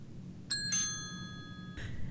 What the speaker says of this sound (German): Was ist denn hier die ganze Zeit am Klingeln?